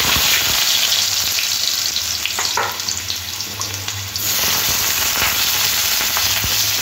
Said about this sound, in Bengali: এবার তেলের মধ্যে আলুগুলো ভেজে নেব।